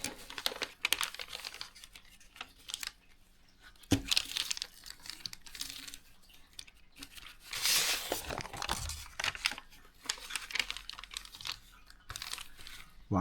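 A sheet of paper being folded into a CFA-44 Nosferatu paper plane crinkles and rustles up close, with bursts of creasing and crumpling and sharp snapping folds between quieter handling, and no talking.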